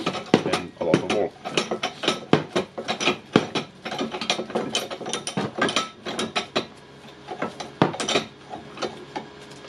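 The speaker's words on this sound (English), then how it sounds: "I'm taking the screwdriver and screwing the screw." Hand screwdriver turning a screw during repair of a Makita DHP482 cordless drill's gear assembly on a workbench, giving close, irregular ratcheting clicks and scraping metallic bursts throughout, with no talking.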